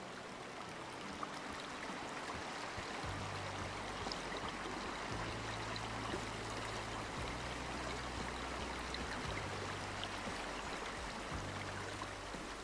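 Steady rushing flow of a stream in the hunting game Way of the Hunter, loud and continuous throughout, with a low engine-like drone from a Jeep rising and falling underneath.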